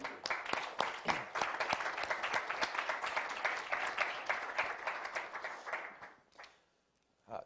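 An audience applauds to welcome Senator Norm Coleman at a leadership speaker series, steady dense clapping that holds for about six seconds, then fades out into near silence before a short final burst.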